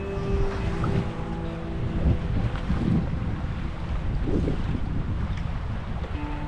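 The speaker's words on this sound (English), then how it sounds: "it's just really, really windy" Strong wind on Lake Winnipeg roaring and buffeting against the microphone in continuous gusts, with a low rumbling undertone and no speech.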